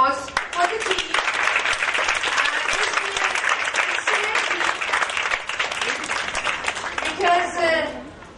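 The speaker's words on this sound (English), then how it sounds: "A big round of applause for the team." Workshop participants give a team warm, sustained applause, dense clapping filling the room while voices talk and call out over it, with the clapping easing slightly near the end.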